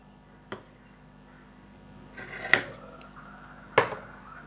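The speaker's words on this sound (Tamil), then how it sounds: "இது ரெண்டுத்துக்கும் கிராஸாக இப்படி கட் பண்ணிடணும்" Scissors snip crosswise through cloth while a fabric face mask is being cut, giving a few short, crisp cuts spaced apart against quiet room background with no talking.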